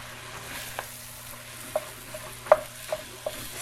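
Ground turkey fries in a pan for chili while a spoon stirs and breaks it up. A soft, low sizzle runs underneath, broken by several faint scraping clicks and taps at irregular intervals.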